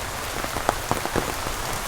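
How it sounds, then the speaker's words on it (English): Heavy rain falling during Super Typhoon Tino in Moalboal, Philippines, a dense steady hiss of downpour with scattered louder drops striking a nearby surface, loud and close with no talking. "And it's raining harder and harder."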